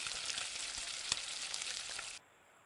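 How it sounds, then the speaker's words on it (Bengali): Ivy gourd (kundri) tossed with egg sizzles steadily in a hot pan as it is stirred, a dense, close frying hiss with a few scraping clicks that cuts off abruptly near the end, no voices. "নাড়াচাড়া করে ভেজে নেব।"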